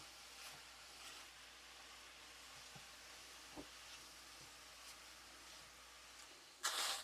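Lean ground hamburger cooking in a pan on a stove at medium heat, a faint steady sizzle with occasional small ticks and a brief louder hiss near the end.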